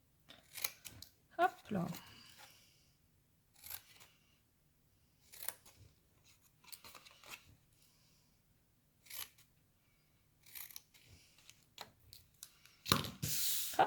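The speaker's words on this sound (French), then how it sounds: "je coupe une fois en droit et une fois en biseau" Scissors make small snipping incisions in handbag material, giving brief scattered cuts separated by quiet gaps, close and fairly soft, with a few quiet spoken words.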